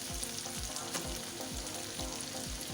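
Tomato cooks in a pan, a soft, even sizzle with faint low thumps repeating at a regular pace, quiet and with no one talking.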